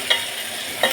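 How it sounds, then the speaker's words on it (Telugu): Onions fry in a pan for a Bombay aloo curry, a short burst of steady sizzle with two brief scraping stirs, close up and without speech. "ఎర్రగడ్డ అనేది బాగా ఫ్రై కావాలి కాబట్టి"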